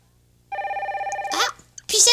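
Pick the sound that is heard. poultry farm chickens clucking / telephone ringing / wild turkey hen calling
telephone ringing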